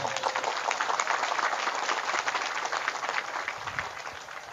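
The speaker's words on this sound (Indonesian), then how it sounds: "Tepuk tangan." A crowd at a religious gathering with kiai and Banser guards applauds, a fairly faint, steady wash of clapping heard from some distance that slowly fades toward the end.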